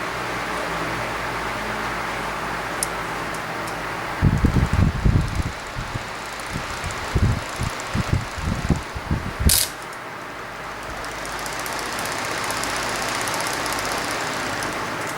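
Two Holmes pedestal fans run on low, a steady broadband whoosh of moving air that carries on throughout, broken in the middle by several seconds of louder knocking and rattling handling noises before the airflow settles back to a smooth hum.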